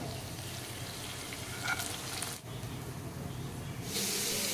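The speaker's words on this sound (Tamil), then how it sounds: "இப்படி ப்ரான்ஸ் எல்லாத்தையும் பொறிச்சு எடுத்துக்கலாம்" Prawns fry in hot oil in a pan for prawn biryani, a steady close sizzle and crackle that holds evenly throughout, swelling into a brighter, louder hiss near the end.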